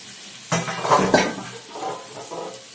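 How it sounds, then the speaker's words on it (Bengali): Chopped onions tipped into a pan of ginger and garlic frying in oil, with a sudden loud sizzle and stirring scrapes that fade to a softer, steady crackle. "এটা একটুখানি ফ্রাই করে নিলাম আমি আদা রসুনটা। এবার আমি পেঁয়াজগুলো দিয়ে দিলাম।"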